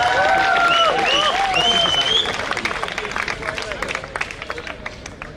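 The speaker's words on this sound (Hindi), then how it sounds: "आपने मेरे स्वागत में जो घनघोर तालियां बजाई हैं" A college audience in Delhi greets a performer with thunderous applause, a dense wash of clapping and crowd noise with high whistles in the first seconds, easing slightly toward the end.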